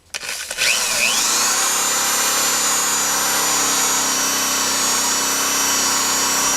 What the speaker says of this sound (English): we still have a relatively new buffing ball